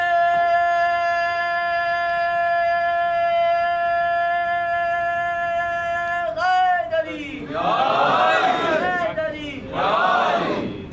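A crowd at a Muharram majlis gathering shouts the religious slogan Naara-e-Haidari Ya Ali. A single steady drone is heard first, then the loud massed voices come in two strong waves near the end.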